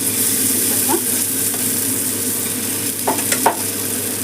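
Fish pieces frying in a small amount of oil, a constant close sizzle with occasional light scrapes and taps of a utensil near the end, and no talking.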